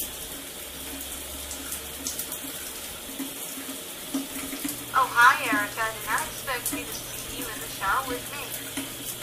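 Shower water runs in a steady, continuous hiss. A voice rises over it in the second half.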